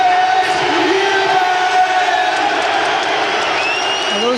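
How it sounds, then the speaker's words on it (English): A boxing crowd boos and roars as the fighter walks to the ring at a WBO super-middleweight title bout, a dense, loud and continuous wall of noise with whistles and shouts throughout. "Although there's a lot of booing, there's a hell of a lot of noise"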